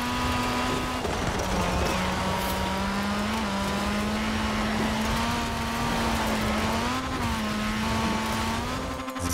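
A racing car in Forza Horizon 4 holds a steady, droning engine note through corners, with faint tire noise and no talking over it.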